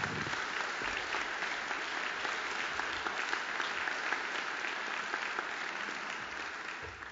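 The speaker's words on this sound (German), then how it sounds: "Herzlichen Dank, dass Sie mich mit einem Applaus begrüßen" An audience at a university chamber orchestra concert of Mahler's Fourth Symphony applauds, a dense steady clapping from a full hall that holds evenly and begins to thin toward the end.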